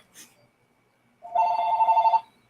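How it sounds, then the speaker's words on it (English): A telephone rings on a radio call-in show, one sustained electronic trilling burst of about a second, clear and fairly close after a brief quiet pause. "I know the phones are ringing off the hook"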